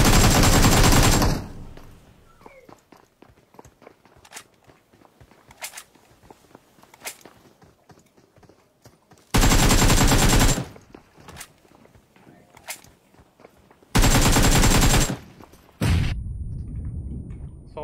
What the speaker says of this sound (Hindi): मैंने लास्ट में गोली छोड़ी थी।